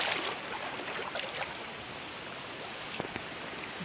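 Flooded village river at Batahan IV overflowing after weeks of heavy rain, a steady broad rush of water that stays constant and fairly faint, with no voices.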